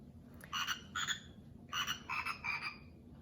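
A frog croaks in short rhythmic bursts, five or six calls in quick succession, close by over a low steady background hum.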